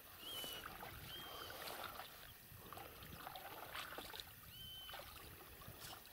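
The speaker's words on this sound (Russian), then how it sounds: "Ну вот, лодка приближается." A small rowboat approaches across calm water on a fishing trip, with soft, faint splashes and trickling, while a few birds chirp in the distance.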